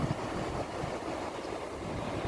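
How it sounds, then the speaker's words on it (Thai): Steady, dense rush of water flowing over rocks at the Kaeng Saphue rapids in Thailand, close and unbroken, with a broad hiss. "น้ำไหลเอื่อยเอือยครับเสียงดังสะสะครับ"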